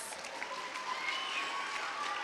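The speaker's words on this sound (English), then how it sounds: "So can we just give the teen helpers a round of applause?" Steady applause from a crowd at a kids camp, a dense wash of clapping that holds at an even level throughout.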